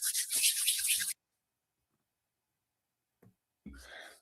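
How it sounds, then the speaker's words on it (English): Dry hands rubbing briskly together with a rough, sandpaper-like scratch, loud and close for about a second, then silence broken by a faint tap and a second brief rub. "my hands sound like sandpaper"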